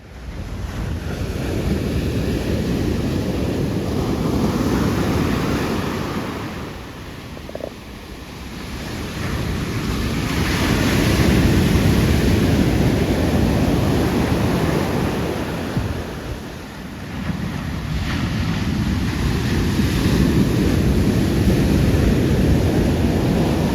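Ocean waves break on an open beach with small, unsurfable surf, a steady full roar that swells and eases in slow surges, with gusting wind buffeting the microphone.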